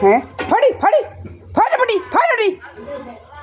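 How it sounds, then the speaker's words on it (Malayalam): A dog barks in a few short bursts close by, the yelps loud and clear against a quiet background. "പട്ടി വന്ന് കയറുന്നു"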